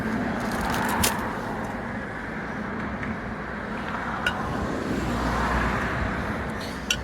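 A car passes on a country road, a steady broad road roar swelling and fading with a few faint clicks, heard from a walker's position with no talk.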